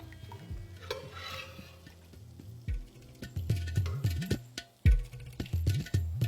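Boiled mutton is tipped into a pan of Kashmiri-style masala and stirred, giving soft scraping and knocking of a spoon against the pan in uneven bursts, with a low sizzle underneath and no talking.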